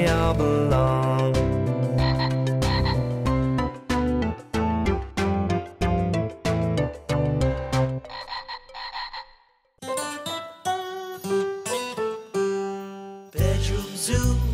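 Cartoonish frog croaks in a children's song land as rapid rhythmic bursts over bright music, evenly pulsing, then sparser croaks after a brief pause.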